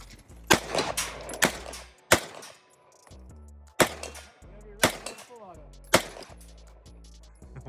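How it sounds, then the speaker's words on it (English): An MP5 submachine gun fires about six sharp, loud single shots spaced roughly a second apart, each cracking and fading quickly, with faint voices between them. "My dad's about to shoot, I think it's an MP5."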